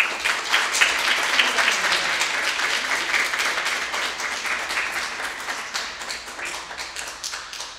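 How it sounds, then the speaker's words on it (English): Dense audience applause after a spoken-word poem at a Black history storytelling event, a steady wash of many hands clapping throughout without a break, fairly close and loud. "everyone give up one more round of applause for Bethlehem."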